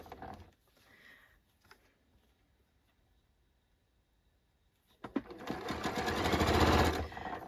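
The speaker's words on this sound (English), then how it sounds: "I've now finished sewing on the ruffle" Quiet handling noises come first, then a sewing machine starts abruptly and runs fast and loud for a couple of seconds, stitching a fabric ruffle onto a refashioned jacket.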